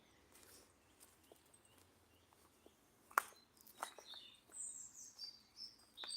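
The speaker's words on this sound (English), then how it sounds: "Can you hear all the birds?" Birds chirp and sing at a distance in a Sussex wood, with scattered clicks and soft footsteps on the ground, no talking.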